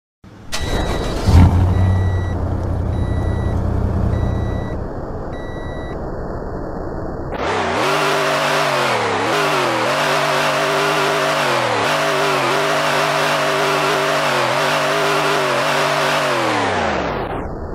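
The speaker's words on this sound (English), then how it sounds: "Get ready for the engine sound" Several seconds of electronic beeping give way to a 2021 Toyota Vellfire Dominator engine starting up on a test drive. It revs steadily and loudly, with a few brief dips in pitch as it accelerates, heard alone without talk.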